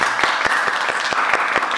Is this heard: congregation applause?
yes